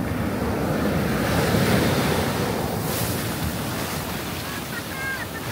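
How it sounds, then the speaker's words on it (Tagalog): Ocean waves wash steadily onto the beach at Patar, Bolinao, Pangasinan, with a constant rushing surf and some wind buffeting the microphone. "tunog ng mga alon na nagsasabing, kalma lang"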